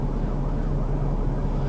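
An ambulance siren on the road heard from inside a pulled-over car, its wail mixed into a steady loud drone of engine and road noise.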